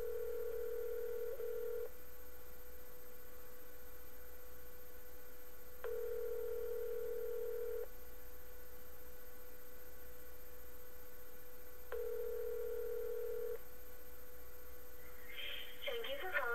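Telephone hold line during a call transfer to an operator: a steady electronic tone repeats in roughly two-second bursts over a constant line hum, ending with a brief burst of higher tones.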